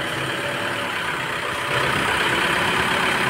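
An Isuzu MU-X with weakly cooling air conditioning gets a light rev. Its steady, close engine drone rises a step in level partway through and holds there, with no talk.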